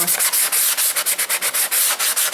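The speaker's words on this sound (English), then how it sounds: "I'm gonna do a little bit with this 80 sandpaper, just to make it a little bit grabbing for" 80-grit sandpaper scrubbing the fiberglass belly of an RC plane, heard as loud, close, rapid back-and-forth rasping strokes in an even rhythm, with no talk.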